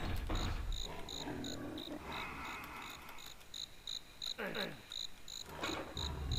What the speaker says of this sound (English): Just hearing crickets with this sky and the crackling fire, it's so good.